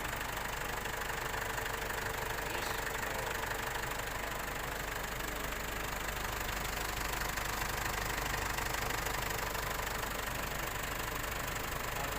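A steady, low engine rumble idles continuously with a slight knocking texture and faint mechanical vibration, no voices.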